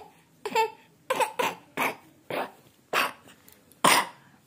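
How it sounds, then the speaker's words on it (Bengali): A child coughs in a run of about eight short, harsh bursts, spaced irregularly and close to the listener, with no talk in between. "ও বাবা রে, কি কাশি"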